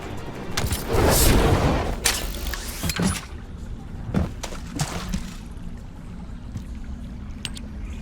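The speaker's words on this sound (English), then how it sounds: "Just set off a few explosives." Explosives set off in The First Descendant video game: a series of heavy, rumbling booms, one roughly every second over the first few seconds, fading to a low, distant rumble and scattered faint rattles.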